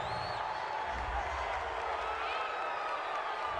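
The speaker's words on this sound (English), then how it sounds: "Well, this crowd does not like that call." A stadium crowd in the Madden 20 football video game reacts to a penalty call with a sustained, loud roar of voices that fills the whole stretch.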